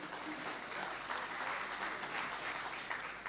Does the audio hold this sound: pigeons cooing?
no